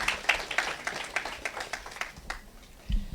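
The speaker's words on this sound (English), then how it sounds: "Please, with a round of applause, help me welcome him." Faint, scattered clapping from a small audience, thin and distant, fading out after a few seconds.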